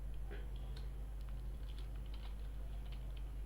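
Code being typed on a computer keyboard: faint, irregular key clicks come in quick bursts over a low steady hum, with no voice.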